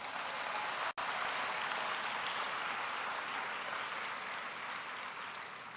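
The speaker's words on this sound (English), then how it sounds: "Can we give them one more round of applause?" A graduation ceremony audience for medicine and health sciences graduates gives a round of applause, heard as a faint, distant, continuous wash of clapping that fills the hall without letup, broken only by a brief dropout near the start.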